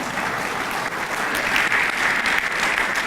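Dense, steady crowd applause fills a homecoming luncheon, many hands clapping together in a continuous wash that holds level throughout, with no talking over it.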